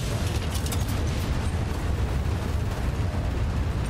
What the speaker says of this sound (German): Jetzt ist er explodiert